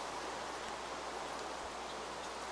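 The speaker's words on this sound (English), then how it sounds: "And of course it just starts raining" Rain falling in Minecraft with the BuildCraft mod, a steady, even hiss of downpour at low volume that keeps going unchanged without speech.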